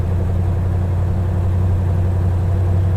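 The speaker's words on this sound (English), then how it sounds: "You can kind of hear it went up a little bit in RPM." A Road Runner's engine runs with a steady low hum and a deep rumble after an overdrive transmission swap, its RPM edging up slightly as overdrive engages, loud and continuous with no talk.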